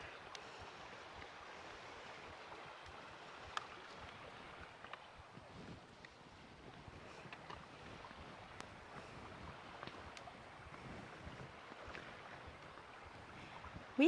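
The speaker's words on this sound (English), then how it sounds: "The sounds of the river is so peaceful, and the water is super clear." A river flowing through a Belize rainforest near a lodge, heard as a steady broadband rush of water with faint scattered ticks and no talk.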